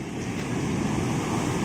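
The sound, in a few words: sea waves breaking on the beach at Digha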